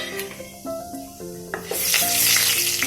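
Whole black pepper, cardamom, cinnamon and cloves hit hot oil in a pan for chicken kabsa, first a few soft pops, then a loud, steady sizzle that swells and fills the rest of the clip, with no talking.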